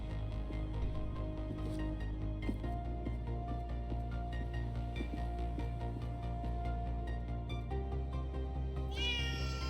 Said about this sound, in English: Yes, there is a black cat under a ladder.